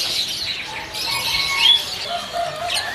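Dark-coloured loper canaries and other caged birds at the Pramuka bird market chirp and tweet in a busy overlapping chorus, high, bright and continuous, with no voices over them.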